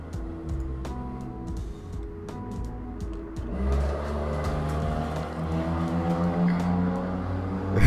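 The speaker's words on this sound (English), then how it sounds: "I live across on a busy street and I do have my windows open" Steady rumble of street traffic with engines passing and revving, a dense continuous wash of vehicle noise with no voices.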